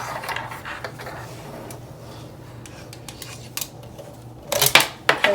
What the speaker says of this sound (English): take it off to the side and cut that thread